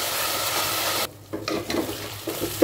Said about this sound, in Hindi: अदरक लहसुन की पेस्ट के साथ ही हमें 2 मिनट तक फ्राई करना है।